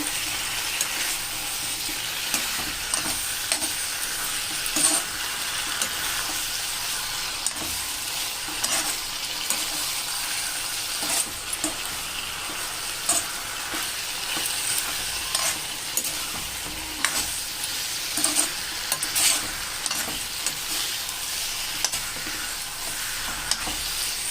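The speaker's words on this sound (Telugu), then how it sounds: "ఇప్పుడు మనము దీన్ని మళ్ళీ ఒకసారి కలుపుకుంటామండి. బాగా కలుపుకొని" Pond fish curry stirred in a frying pan, with a steady close sizzle and hiss broken by repeated light scraping strokes of the spoon, no voices.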